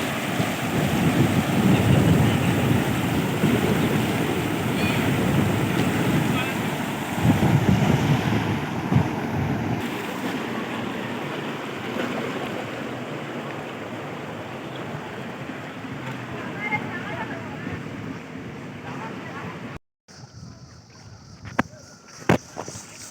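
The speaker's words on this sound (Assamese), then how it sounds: "আহিলোঁ আমি ডাউকি নদীত নাৱত উঠি" A boat moves across the clear water of the Dawki river with a loud wash of water and heavy wind buffeting the microphone, and then it suddenly quiets near the end.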